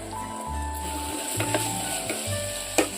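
Chopped onions, green chilli and curry leaves hiss and crackle as they fry in a clay pot for chicken curry, with stirring scrapes and a brief clatter near the end, close and fairly loud.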